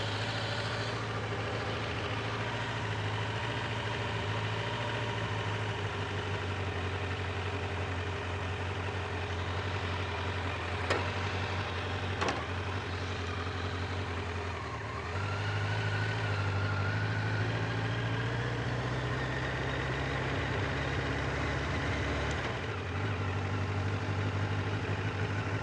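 A Kawasaki Concours 1000 motorcycle with worn, flat-spotted tires rides up and down a street, its engine a continuous steady drone that rises slightly in pitch midway, heard without talk.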